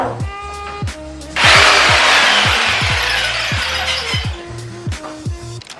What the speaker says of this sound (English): Time to get the jigsaw out.